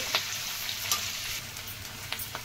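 Onion pieces with green chillies and curry leaves frying in oil over medium heat give off a steady, close sizzle, broken by a few sharp crackles and pops.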